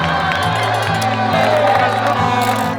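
Crowd of spectators at the Zegama-Aizkorri mountain trail race cheering and shouting loudly and continuously, with whoops over a dense roar and a rhythmic low drumming underneath.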